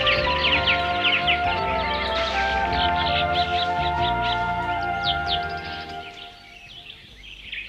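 Several birds call in a jungle scene from an animated series, giving quick repeated chirps and tweets over a busy layered backdrop. The calls stay loud and close, then fade out toward the end.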